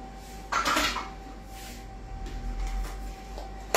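About 30 g of melted butter going into a microwave bowl in a home kitchen: a brief clatter of dish and utensil, then quieter handling over a steady hum.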